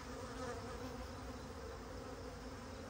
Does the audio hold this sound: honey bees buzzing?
yes